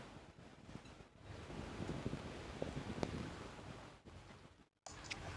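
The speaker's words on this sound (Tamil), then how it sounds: "ஏன்னா காத்து அப்படியே பவுலர் பக்கம்." Steady gusting wind sweeps across an open-air local cricket ground during a grand final, a continuous broadband roar buffeting the microphone, with a brief dropout near the end.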